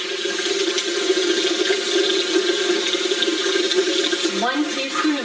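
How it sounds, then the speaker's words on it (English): A kitchen tap runs steadily into a pot being filled with water for pasta, a continuous close splashing rush that deepens near the end as the pot fills. "I'm gonna start filling my water from my pasta."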